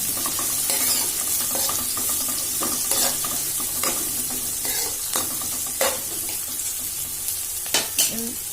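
Amaranth leaves fry in oil over a medium flame, a steady close sizzle broken by repeated scrapes and clacks of a spatula stirring the pan at irregular intervals.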